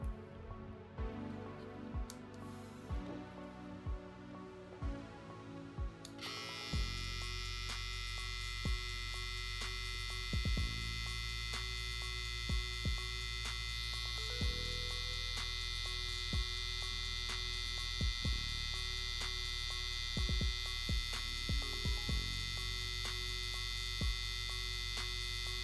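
A Lence Pro FF1T electric shaver switches on after a few soft handling clicks and runs with a steady, quiet hum, punctuated by light taps as it is held.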